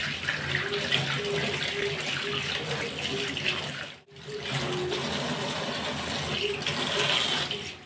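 Tap water runs steadily into a kitchen sink while eggs are washed by hand, a close, continuous splashing flow with one brief break midway.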